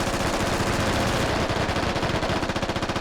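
Rapid automatic gunfire from a Squad Ops firefight, dense overlapping bursts of shots filling the whole stretch, loud and close with a continuous rattling rhythm.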